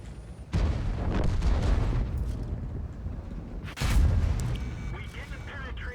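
Two heavy booms from a tank cannon in a tank video game fire about three seconds apart, each a loud low blast that rolls off slowly, while a voice talks in the gaps.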